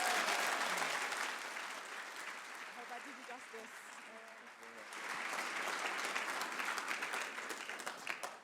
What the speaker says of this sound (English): Let's all give a warm round of applause for George the Poet.